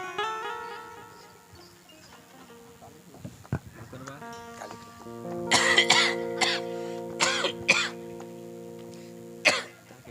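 A man coughs in a few sharp, loud bursts in the village of Pajharapal, set against a steady tonal background with fainter sounds earlier on.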